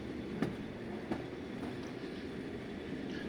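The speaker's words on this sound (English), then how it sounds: "all at once a long freight train came thundering by" A long freight train thunders past, a steady roar of rolling wheels and rumbling cars with a couple of sharp clanks, loud and close, with no voices.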